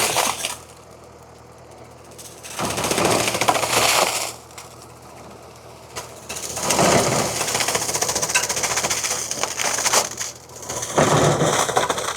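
A Farmtrac 6055 WorldMaxx 4WD tractor runs a banana shredder, and the crushing, splintering churn swells loud in three bursts, each a few seconds long, over a steady engine hum.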